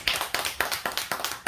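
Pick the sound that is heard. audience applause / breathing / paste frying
audience applause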